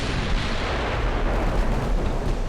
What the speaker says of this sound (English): that was a devastating salvo for my 14-inchers